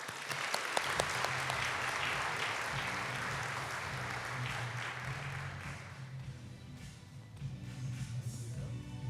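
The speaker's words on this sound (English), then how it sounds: "Please give a round of applause to our partners at Capella." Audience applause at an awards event, a dense steady crowd clapping that starts right away, holds loud for several seconds, then thins out toward the end.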